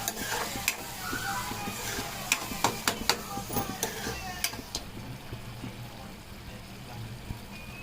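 Salted pulihora tamarind rice mixture is stirred in a pan, with repeated sharp scraping and clacking strokes over a continuous low sizzle. The strokes thin out toward the end, leaving the bubbling cooking sound alone.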